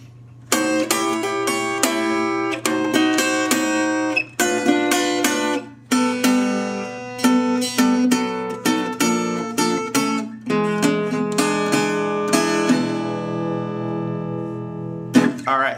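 Acoustic guitar intro to a song, delta blues style, a series of plucked notes and strummed chords in a loose rhythm, close and clear, played solo with no talk.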